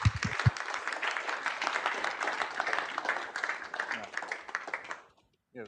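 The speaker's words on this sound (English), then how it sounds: "Big round of applause for Sam." An audience at an international show-and-tell event breaks into sustained applause, dense clapping building and holding steady for about five seconds before cutting off abruptly, with a brief burst of voice at the very start.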